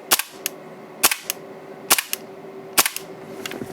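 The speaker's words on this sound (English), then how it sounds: "Just rack it and then shoot it." A Tokyo Marui Hi-Capa airsoft pistol fires four sharp, close shots at steady intervals of about a second, each followed by a quick mechanical clack from the slide cycling.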